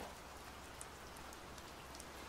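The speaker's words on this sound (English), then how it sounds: "It's pouring down rain here in Tokyo today, so you will be listening to ambient rain noise in the background during this whole video" Heavy rain pours down in Tokyo, a steady, dense hiss of drops that stays constant throughout, with a few brighter patters standing out.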